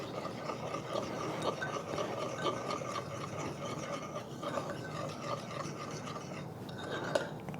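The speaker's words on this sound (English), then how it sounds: "And give that a stir." A garlic noodle sauce made with oyster sauce and fish sauce being stirred in a bowl, giving a soft, continuous scraping and rubbing that stays fairly quiet throughout.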